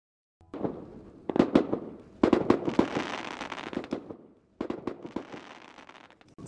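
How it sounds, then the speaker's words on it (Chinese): Fireworks go off at a remote Mars-like campsite in a rugged Chinese landscape on a Mid-Autumn night, with sharp bursts and crackling volleys in clusters and short pauses between, near and loud. "按捺不住激动的心情就开始放烟花"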